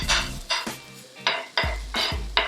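Garlic dropped into hot olive oil in a home kitchen pan, giving bursts of crackling sizzle alongside loud stirring scrapes and clanks of a utensil against the pan, close and without talk.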